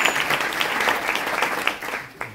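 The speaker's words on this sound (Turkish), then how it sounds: "ayrı bir alkış peşin edelim" Audience applause at an improvised long-form theatre festival performance in İzmir, a steady wash of clapping from a crowd that tapers off near the end.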